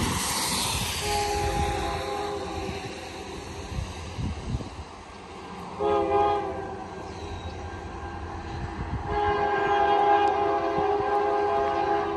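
A three-chime Nathan K3H locomotive horn blows in long, sustained blasts over the heavy rumble of a passing freight train.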